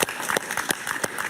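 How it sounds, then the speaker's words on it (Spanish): A talk show studio audience applauds, a burst of dense clapping with a few sharper peaks, lasting about a second and heard alone without speech. "Un gran aplauso para mi querido amigo"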